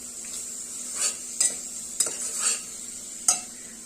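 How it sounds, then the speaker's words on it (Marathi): Chili powder, turmeric and sambar masala being sautéed in a pan for rasam rice, with a soft continuous sizzle and several sharp spoon scrapes and taps against the pan at irregular intervals. "मिरची पावडर हळद त्याचप्रमाणे इथे सांबर मसाला हे सर्व व्यवस्थित असं परतून घ्यायचं"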